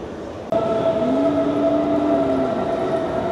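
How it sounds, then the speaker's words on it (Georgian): A metro train pulls into an underground station in Germany with a sudden loud rush, then a sustained rumble and a high electric whine that shifts in pitch as it slows. No one speaks. "მოვიდა მეტრო."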